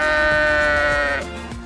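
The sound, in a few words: sheep bleating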